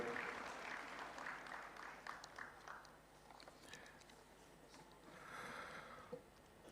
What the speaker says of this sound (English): Let's give a round of applause and thank Sri M.B. Patil